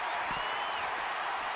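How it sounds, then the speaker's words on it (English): Steady, dense crowd roar from a virtual wrestling arena in WWE 2K23, a broad continuous wash of cheering and applause that holds at an even level throughout without any clear talk. "Just listen to the crowd."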